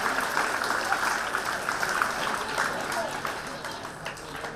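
Students in a school audience clap steadily at a Founder's Day prize-giving, a dense, continuous wash of applause filling the room with no break.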